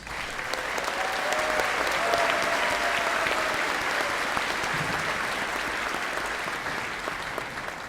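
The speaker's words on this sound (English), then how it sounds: "Let's give them a round of applause." A large audience at a 2016 high school graduation ceremony claps in sustained, dense applause that swells early, holds steady and slowly tapers, with no voices standing out.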